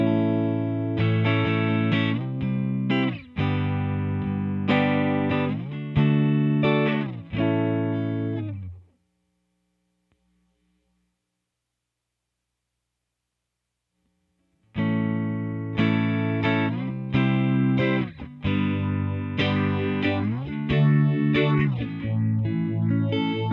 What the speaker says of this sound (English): First, here's the bypass signal. We're using a Strat through a Hot Rod Deluxe.